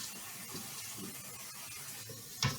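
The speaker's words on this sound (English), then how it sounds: "I'm just giving this a good wash." Water runs quietly from a faucet while sea moss is washed by hand in a sink, a soft continuous splashing trickle with a brief louder splash near the end.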